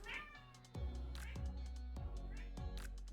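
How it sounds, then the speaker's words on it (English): A cat in the background meows loudly and repeatedly, several drawn-out yowls in a steady sequence over a low hum. "That cat in the background just had dinner. It has no right to yell at me like that."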